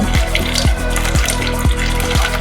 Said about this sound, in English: water comes in as normal and seals as normal